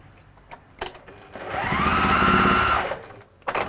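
A sewing machine basting lining to an outer fabric seam runs in one steady mechanical whir of about a second and a half, framed by quieter handling clicks and rustles before and after.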